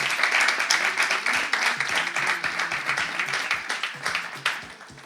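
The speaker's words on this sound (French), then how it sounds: "Applaudissez pour nous." A studio audience claps for a prize winner on a French-language Ivorian comedy show, with distinct individual hand claps over a noisy, dense bed of clapping and crowd sound.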